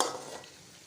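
Chicken white karahi with yogurt just added, cooking in a pan: a short soft sizzle and stirring scrape that fades quickly, quiet and close.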